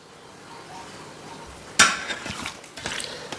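Chicken meat is mixed in marinade in a bowl, starting quiet and then turning to a sudden close clatter of a utensil against the bowl, followed by wet squelching and further scraping knocks.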